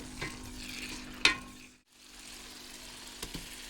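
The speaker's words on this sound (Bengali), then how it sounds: "বেশ খানিকক্ষণ কষানোর পরে আমি এরপর রসুনের কোয়াগুলা দিয়ে দিব।" Garlic cloves sizzle in hot oil in a pan during the making of a dried fish pickle, a soft steady hiss with a sharp splatter burst, a brief hush, then the frying resumes.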